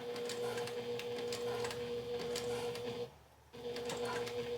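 A sewing machine top stitches a clear vinyl pouch, running in a steady continuous whir with a brief pause near the end before resuming, close and alone with no talking.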